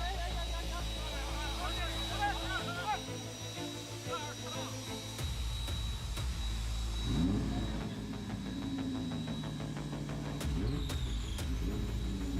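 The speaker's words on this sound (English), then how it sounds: "So the engine fired, which was a very good sign." A drift car's engine fires up and revs at Tianma Circuit in China during a Royal Drift Series tandem battle round, the rising engine sound heard under ongoing commentary.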